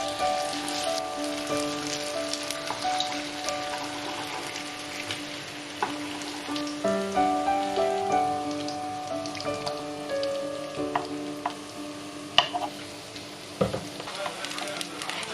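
Potato and egg frying in a pan with cooking oil, a steady crackling sizzle throughout, with tonal music playing over it and a few sharp clinks near the end.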